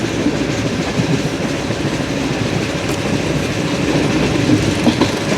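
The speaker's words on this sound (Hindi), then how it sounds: "उन्हीं के नाम पे इस ट्रेन का नाम रखा गया है बावलदीन ज़करिया एक्सप्रेस" The Bahauddin Zakariya Express, a Pakistani passenger train bound for Multan, runs on its rails during a 45°C heatwave. A steady, close, loud rumble and rolling clatter continue throughout with no voices.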